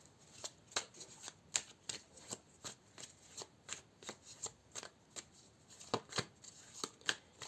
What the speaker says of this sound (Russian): И я разложу в начале карты